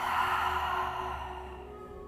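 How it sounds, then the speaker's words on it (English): A slow, breathy exhale through the mouth during a basic yoga breathing exercise, soft and close, fading gradually over about two seconds with no talking. "inhale through the nose, exhale through the mouth"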